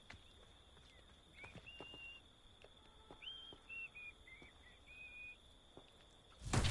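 Faint, thin whistling in the video game Hogwarts Legacy: short melodic phrases rise and fall over a quiet ambient background with soft footstep-like taps, ending in a sudden louder noise.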